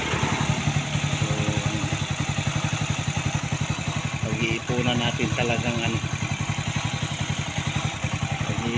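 A Motorstar motorcycle's engine putters in a fast, even chugging rhythm close by throughout the ride, with someone talking over it.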